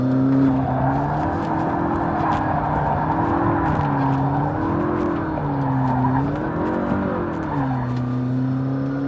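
A McLaren 650S sports car driven at the limit on a track with everything turned off, its engine droning loudly and rising and falling in pitch while the tires squeal through a sustained drift.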